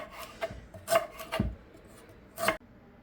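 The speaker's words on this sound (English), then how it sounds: "while we're cutting up our rhubarb" A knife chops through fresh, stringy garden rhubarb stalks on a cutting board: a few separate close, crisp cuts with short scraping drags between them, in an otherwise quiet kitchen.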